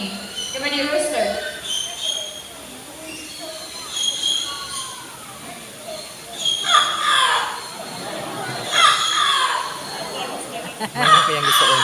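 A talking bird at a bird show at Safari Adventure in Cebu, Philippines, mimics a rooster's crow in several drawn-out calls over a steady murmur of crowd noise and voices.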